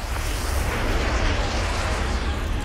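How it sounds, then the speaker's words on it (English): Artillery strike explosions in Call of Duty Modern Warfare 2 make a continuous loud, rumbling roar of blasts, dense low booms merging into one heavy sustained barrage with no talk. "Artillery inbound."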